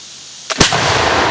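A flintlock smoothbore musket fires a single sharp shot of number 5 shot in the woods, a brief crack with a broad burst that rings out and decays into a long, loud rumbling tail.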